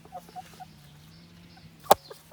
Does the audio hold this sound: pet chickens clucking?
yes